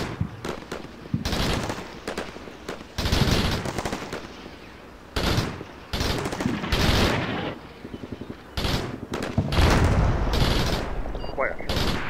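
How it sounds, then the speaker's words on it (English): Artillery fire mission impacting in the war game Combat Mission Shock Force: repeated loud, heavy blasts and rumbling explosions in clustered bursts, close and dominant, with brief quieter gaps between salvos. "And the fire mission arrives."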